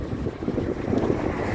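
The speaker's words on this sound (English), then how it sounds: "expect a lot of wind." Steady gusting wind buffets the microphone outdoors in Scotland, a continuous rough rumble with no voices.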